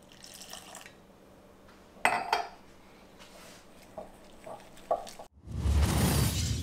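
Whisk clinking against a bowl while roughly half a glass of water is poured into cauliflower cutlet batter, giving scattered metallic taps and clinks and a short liquid pour, with a loud rushing burst at the end.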